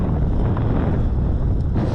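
Strong wind buffets the microphone on a windy morning in Regina, Saskatchewan, a steady loud low rumble with gusty swells that never lets up for the whole stretch, with no voices.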